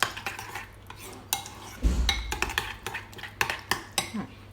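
Vegetables being stirred into an egg mixture for mini vegetable omelettes, with a utensil clinking and scraping against a bowl in short, irregular strokes, close up, with no talk.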